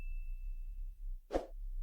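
A bright bell ding sounds once as a notification effect, ringing with a thin sustained tone, then a short soft plop-like hit near the end over a low background hum.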